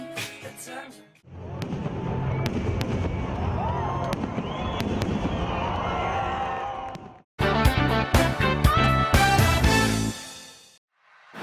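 Wedding fireworks crackle and burst in a dense, sustained barrage, pausing briefly before another sharp series of bangs and pops, loud and close.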